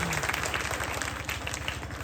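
Audience applause at an annual function, a dense, steady patter of many hands clapping together, heard over a low rhythmic pulse of background music.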